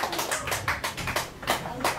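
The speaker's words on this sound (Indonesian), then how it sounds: "Silakan kita beri tepuk tangan buat Mas Ali Nur Said." Applause for a speaker at an evening discussion on mothers in post-Reformasi politics, heard as short, uneven bursts of clapping from a small group nearby.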